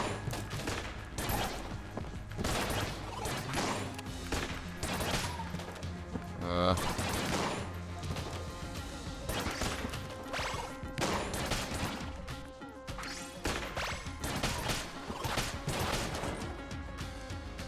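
Rapid gunfire from the witch gun in the video game Enter the Gungeon: dense bursts of repeated shots and impacts over game music, continuing through the whole stretch.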